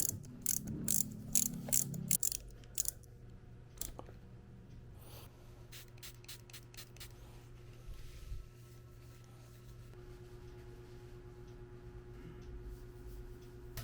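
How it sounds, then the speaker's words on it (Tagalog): A wrench ratchets as bolts are tightened on a budget bicycle suspension fork, clicking in quick bursts at the start and then more sparsely in short runs, close and fairly quiet, with no talking. "And once the thread has engaged, Tighten with the wrench."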